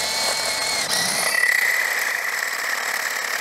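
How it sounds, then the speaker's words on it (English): A loud, steady power drill with a 1 3/8 bit grinds and whines continuously into a concrete block, unbroken from start to finish. "I got a concrete block here. Let's see how well it drills through that."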